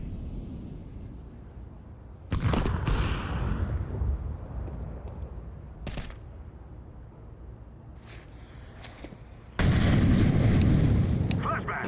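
A flashbang grenade bursts in a first-person shooter game, one sharp loud blast followed by a second heavy burst near the end, with a player talking in between over low background game noise.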